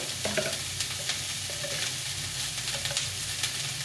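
Cauliflower fries in a pan for a vegetarian cauliflower and pea curry, a steady close sizzle with faint stirring scrapes and clinks running throughout, no voices.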